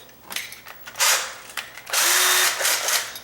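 A cordless drill with a low battery whirs in two loud bursts, the second longer and steadier, with faint ratcheting clicks around them and no talking.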